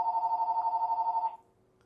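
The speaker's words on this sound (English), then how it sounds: "sorry, phone's ringing." A telephone rings in a fast, warbling electronic trill for just over a second before cutting off abruptly, leaving near silence.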